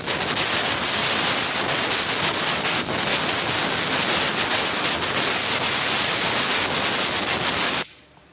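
Compressed air blasts in a long, loud, steady hiss while cleaning the throttle body of a Honda Vario 125/150 scooter, close up and unbroken for about eight seconds before cutting off abruptly.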